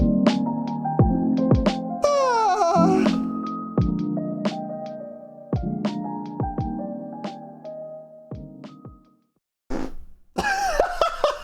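A long, loud, close fart spreads over several seconds in a series of sputtering, rasping bursts with squeaky rising tones, pauses briefly, then ends with a final squealing burst.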